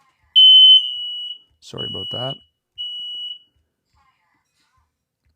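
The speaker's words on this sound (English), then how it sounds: "Broadcast our smoke alarm to the internet." A household smoke alarm sounds three piercing high beeps, the first loudest and the last shorter, and a person speaks briefly between them.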